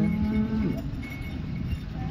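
At a cattle market in Modnimb, a cow lets out one low moo near the start, followed by crowd murmur and livestock noise at a steady level.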